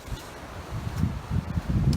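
Strong wind gusts across a muddy, rain-soaked mountain trail near Bugarach, buffeting the microphone in low rumbling surges that swell and ease, with faint rustling above and no voices.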